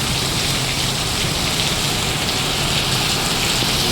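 Heavy rain pours down in a dense, unbroken hiss, loud and close, with no other sounds.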